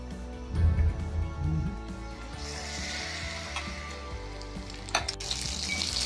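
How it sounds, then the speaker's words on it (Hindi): Paneer frying in hot oil over a high flame for dhaba-style chilli paneer: a steady, close sizzling hiss with a few louder bursts and clinks near the start, continuing without talk. "इसको बहुत तेज आंच में फ्राई करना है"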